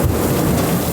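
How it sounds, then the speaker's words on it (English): Heavy monsoon rain pours down outside, a dense, steady roar of rainfall with a deep rumbling undertone, loud and continuous with no talking. "Absolutely monsooning outside."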